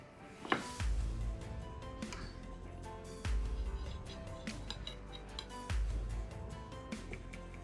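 Sharp clinks and taps of a knife and plate sound near and moderately loud as a coconut cake is sliced into layers with a serrated knife, with low thumps recurring every couple of seconds and no speech.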